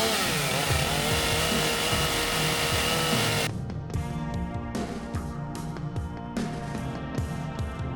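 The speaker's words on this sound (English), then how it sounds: "So we'll do our chainsaws and the circ saw." Chainsaws roar during a fire station saw check: a loud, continuous engine snarl that holds steady, then shifts to a slightly lower, rougher idle with rhythmic pulsing.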